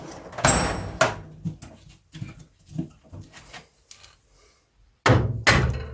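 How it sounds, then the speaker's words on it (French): Hammer blows freeing a stuck CV joint driveshaft on a Renault 4L, a few sharp metallic knocks with quieter taps between and a louder pair at the end, close up. "Tout petit coup de marteau."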